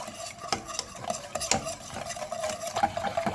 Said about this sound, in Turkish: Malzemelerimizi kaynayana ve kıvamlanana dek topaklanmaması için karıştırıyoruz.